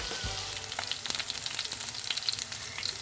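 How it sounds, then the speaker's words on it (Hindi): Fish frying in a pan, a soft, steady sizzle and crackle with small pops, fairly quiet and heard alone. "दूसरा साइड भी हमारा बहुत अच्छे से फ्राई हो चुका है"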